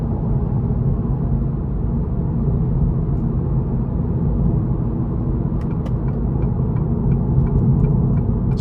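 A 2023 Acura Integra A-Spec with the 2.0-liter turbo four in sport mode on a test drive, a steady low engine drone and road rumble heard from inside the cabin, with faint ticking clicks toward the end.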